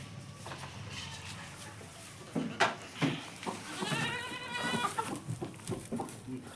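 A Kathiawadi or Beetal goat bleats in a wavering, quavering call partway through, set among farmyard noise with a few scattered thumps and background animal sounds.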